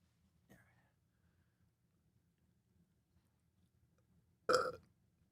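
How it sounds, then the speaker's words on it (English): A single loud, close burp breaks a near-silent stretch, following a faint short sound at the start. "I burped in your face."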